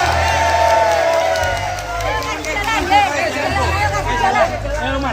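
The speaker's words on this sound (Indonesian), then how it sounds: "Aplaus tepuk tangan untuk Gibran Raka Buming Raka." A large crowd of volunteers at a political rally cheers and applauds, a steady noisy babble of voices and clapping close by, with a loudspeaker voice over the din.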